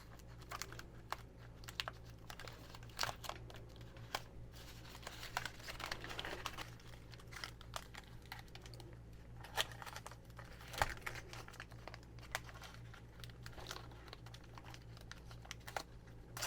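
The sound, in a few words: applying masking tape around water pump before painting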